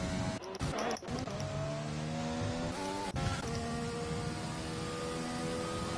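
A race car engine in a racing video game holds a high, steady drone through the final corner, with pitch shifting through gear changes and a brief dip and cut midway, fairly loud and continuous.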